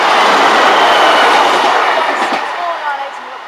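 A Class 156 diesel unit passes Boultham level crossing, a loud, close roar of engine and rumbling wheels that fades slightly as it goes by, with a faint squeal near the end.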